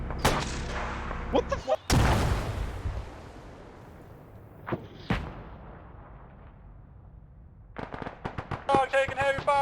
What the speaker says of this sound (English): Oh, taking heavy fire!